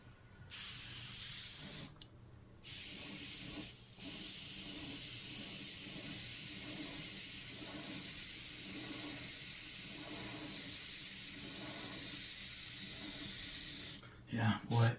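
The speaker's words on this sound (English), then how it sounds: "it's when you get a good airbrush going, it's just so beautiful how well it works" An airbrush sprays in long steady hissing bursts close up, with a couple of short blasts at the start and a sustained stream running for about ten seconds.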